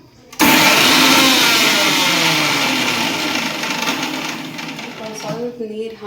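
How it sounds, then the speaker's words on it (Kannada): A mixer grinder whirs into action on masala paste in a home kitchen, starting abruptly with a loud, dense, steady grinding roar that slowly eases and grows uneven toward the end. "ಈಗ ಮಿಕ್ಸಿಗೆ ಹಾಕಬೇಕು."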